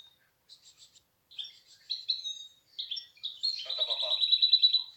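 A pet bird in its cage chirps and sings up close, starting with short scattered tweets that build into a denser, continuous warbling trill, with no one speaking over it.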